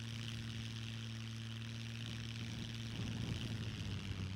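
Aircraft engine drone during a flyby in the SCUM video game, a steady propeller hum that swells and grows rougher toward the end as the plane passes close.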